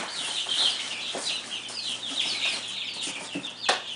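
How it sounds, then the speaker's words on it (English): Baby chicks peeping in a barn during a move, many high, quick chirps overlapping at close range in a busy, continuous chorus. "Alright, we've got the last of our baby chicks here."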